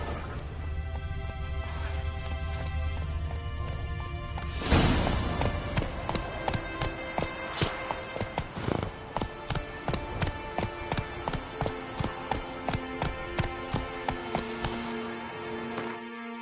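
Horse hooves in The Witcher 3: Wild Hunt, next-gen PS5 version, starting with a sharp spur and then breaking into a steady, fast rhythmic gallop of clip-clopping beats, up close over quiet ambient game music.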